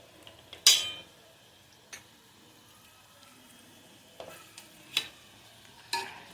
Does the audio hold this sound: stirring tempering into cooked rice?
yes